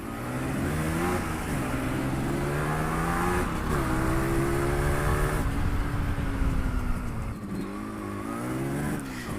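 A customised double-engine Yamaha RX 100 motorcycle with dual carburettors, dual pistons and dual exhaust, ridden hard, its engine roaring loud and close with steady revving that rises and falls through gear changes.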